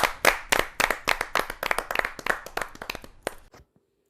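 Enthusiastic audience applause for a poet at a Kavi Sammelan, a Hindi poetry gathering: dense, close hand clapping that builds quickly, holds steady for about three seconds, then stops abruptly into silence.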